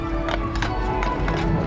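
Horses' hooves clip-clop steadily in a parade cavalcade at EPCOT, close and fairly loud over a busy crowd murmur.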